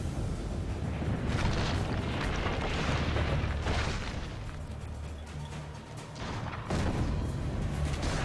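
Heavy booming cannon fire and explosions in the video game Assassin's Creed Brotherhood, several loud rolling blasts in irregular succession over a dense rumbling battle background.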